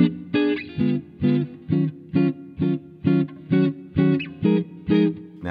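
Repeated sustained neo soul keyboard chords, about a dozen evenly spaced hits, each ringing briefly with a reverberant, jazzy tone.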